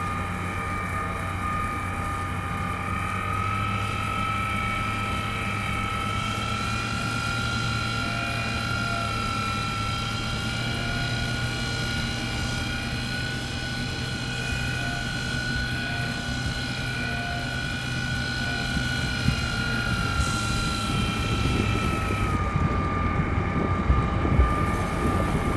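Spaceship engines run in a video game during mining on Ariel, producing a loud, continuous mechanical hum with a sustained whine that holds steady and shifts slightly toward the end.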